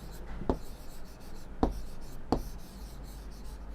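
A pen writes on paper as a sentence is copied, a soft continuous scratch with three sharper taps, close and quiet, with no voice.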